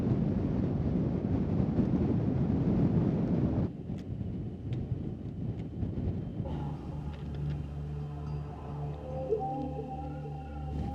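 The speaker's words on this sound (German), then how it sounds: "Allerdings weht ein heftiger Wind" Strong gusty wind buffets the microphone on a mountain summit on Mallorca, a loud roaring rush for the first few seconds before it drops to a quieter, unsettled blowing with faint tonal sounds in the background.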